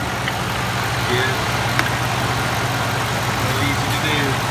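Ford 5.4 engine idling smoothly after a rattle repair, a steady even low hum with no knocking, running continuously at moderate volume.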